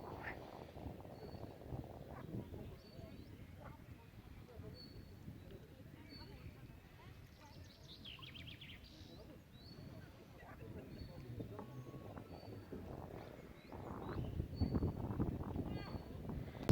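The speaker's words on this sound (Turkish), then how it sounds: "müthiş kuş sesleri geliyor. Bak kurbağa sesleri. Dalga sesleri." Outdoor lakeside ambience at Karagöl, Artvin, with faint bird chirps and croaking frogs, soft lapping water, and distant murmuring voices building toward the end.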